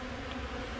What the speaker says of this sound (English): These bees are a little cranked up right now, guys